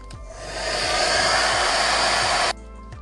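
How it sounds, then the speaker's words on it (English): A heat gun blows for about two and a half seconds with a loud, steady airy roar, then cuts off abruptly. "I'm gonna go ahead and just use the heat gun"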